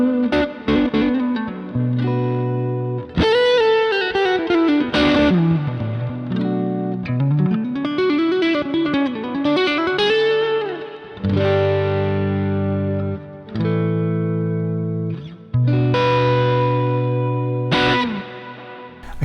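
An electric guitar runs through a homemade low-gain dirt pedal with the volume rolled back, playing bluesy licks, bends and chords in a mildly overdriven, close, solo tone.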